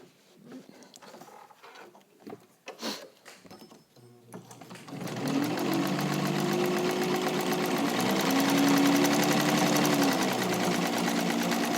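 White all-metal rotary sewing machine, restored, stitching through four layers of fabric: a quiet start with handling clicks, then a steady close mechanical whir with rapid needle ticking.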